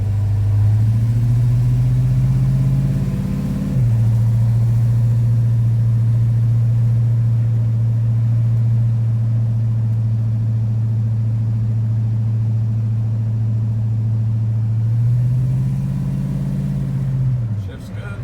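A 1956 Chevy 210 Coupe engine runs steadily at a low idle, rising briefly in revs at the start and again near the end, loud and close throughout.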